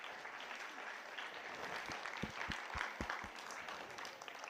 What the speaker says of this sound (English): a big round of applause to these angels first